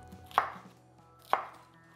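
A knife chops through an onion on a cutting board in a kitchen, two crisp, separate cuts about a second apart over quiet background hum.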